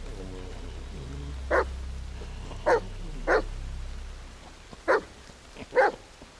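A dog in the horror video game The Medium, giving five short sharp barks spaced about a second apart over a low rumbling growl-like background.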